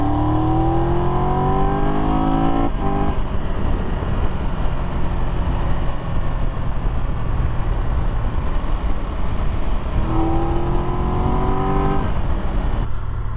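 A 2022 Triumph Tiger 1200 GT Pro motorcycle engine revs hard through rising gear pulls, drops away briefly at a shift, then climbs again near the end, loud and close with steady wind roar underneath.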